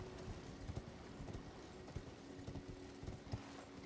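Horse hooves clip-clop at a steady trotting rhythm in the video game Elden Ring, soft and fairly faint over a low ambient game background.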